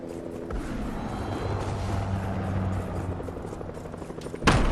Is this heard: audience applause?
no